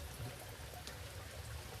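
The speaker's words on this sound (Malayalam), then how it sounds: "രാവിലെ നല്ല ചീഞ്ഞ നൂല് മഴയാണ് നല്ല തണുത്ത കാറ്റും" Light drizzle falls outside the front of a house on a cool, windy morning, a soft steady wash of fine rain and patter without voices.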